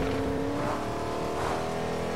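An all-terrain vehicle in Fortnite drives with a steady, loud engine drone that rises slightly in pitch as it revs, running continuously with no talk.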